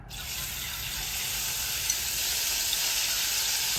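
Tempura frying in hot oil, a steady bright sizzle that holds evenly and close throughout, with no talking.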